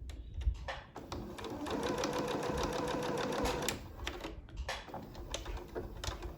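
Sewing machine stitching elastic onto a medical mask with a filter, a fast steady mechanical whir of needle strokes for a few seconds, then stopping amid soft handling noises.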